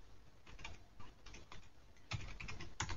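Code is typed on a computer keyboard in quick, soft clicking bursts of keystrokes, faint and close, with short pauses between groups of keys.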